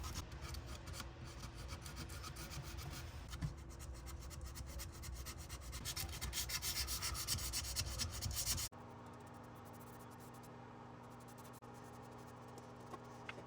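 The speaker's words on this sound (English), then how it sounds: "I'm just folding up small pieces of sandpaper and getting into the" Folded sandpaper rubs back and forth into the corners of a router-carved wooden Christmas decoration, a close, steady rasping scrub that stops abruptly, leaving quiet room noise.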